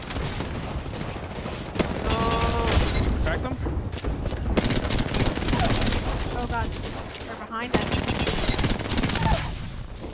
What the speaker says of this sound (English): Just keep shooting at him. Don't get an inch. Keep shooting, keep shooting, keep shooting.